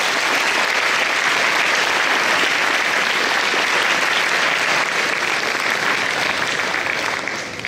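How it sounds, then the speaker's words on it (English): Sustained applause from a conference audience at a youth mental health session, dense and even clapping from a large crowd that holds steady for nearly eight seconds, close and loud with no talking. "Please give our speakers a round of applause."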